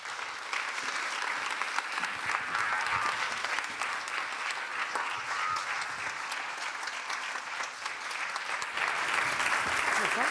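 A large audience applauds steadily as performers step onto a stage at a comedy evening, dense continuous clapping at even loudness throughout, with no voices rising above it.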